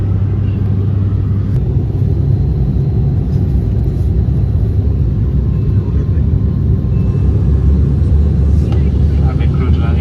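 A passenger airplane comes in to land, heard from inside the cabin as a loud, steady low engine rumble that holds throughout, with people talking over it.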